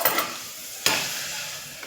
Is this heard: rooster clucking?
no